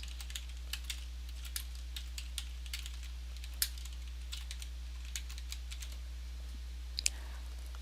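Light keystrokes on a computer keyboard as a search keyword is entered, a string of soft, irregular clicks at a quiet level over a steady low hum, with no talking.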